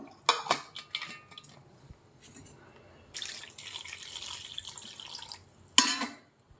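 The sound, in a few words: washing tamarind in water in a pot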